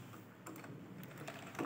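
Keys clatter on a computer keyboard in quick, uneven bursts of clicks, close and fairly quiet, with no one talking over them.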